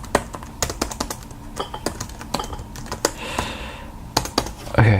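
Typing on a computer keyboard during a coding mock interview, with sharp irregular clacks in quick bursts and pauses, close and fairly loud, alone without talk.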